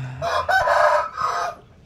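A rooster crows once, loud and fairly close, a drawn-out multi-part call that fades out at the end.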